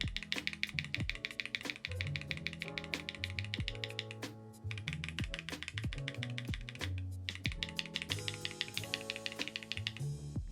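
Rapid, continuous keystrokes on a mechanical keyboard fitted with Ice Mint linear switches, loud, close and clacky, with dense irregular rhythm and brief pauses, no talking over it.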